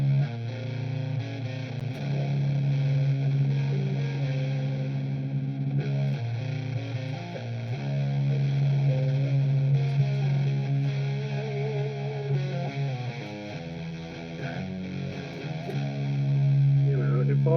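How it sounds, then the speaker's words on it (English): A PRS Custom 22 electric guitar played through a Rat distortion pedal, giving a continuous, loud, saturated tone with sustained notes and shifting melodic lines for the whole stretch, no talking. "If I put the Rat on now, or any distortion, that's what I'm playing at the moment."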